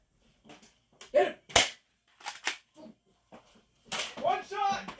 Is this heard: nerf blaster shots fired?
yes